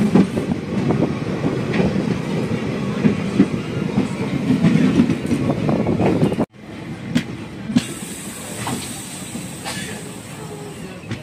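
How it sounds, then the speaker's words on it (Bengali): A passenger train pulls out of Simaluguri railway station bound for Amguri Junction in northeast India, rolling with a loud steady rumble and wheel clatter that briefly drops out, then continues with a hiss and rhythmic clicks. "ট্রেন নির্ধারিত সময়ের থেকে 8 মিনিট দেরিতে শিমালুগুড়ি রেলওয়ে স্টেশন ছেড়ে তার পরবর্তী গন্তব্য আমগুড়ি জংশন রেলওয়ে স্টেশনের উদ্দেশ্যে রওনা হলো"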